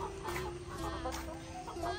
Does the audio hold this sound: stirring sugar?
no